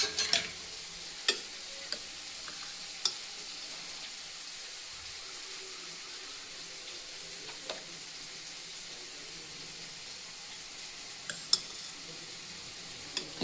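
Cooled cooked rice fries in oil with a soft, steady sizzle, punctuated by occasional sharp clicks and scrapes from stirring; the sound stays fairly quiet throughout.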